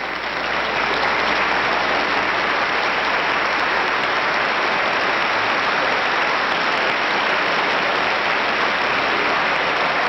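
An audience applauding President Nixon, sustained dense clapping from many hands, loud and steady throughout without pause.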